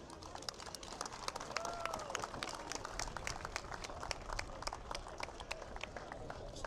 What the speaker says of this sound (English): let's just give a massive applause to these players because they've just done everything today